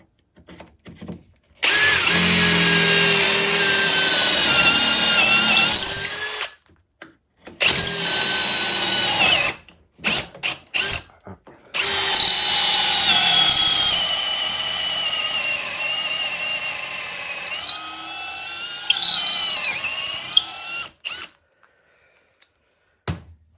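A power drill whines loudly in long bursts through wooden hinge fingers for a card table leg, its pitch shifting as it bites through material, with short pauses between runs.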